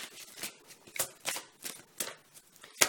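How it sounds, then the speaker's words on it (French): Tarot cards being shuffled by hand, a series of close, crisp riffling bursts roughly every half second, each a short papery flutter with brief pauses between. "on va commencer tout de suite à mélanger les cartes"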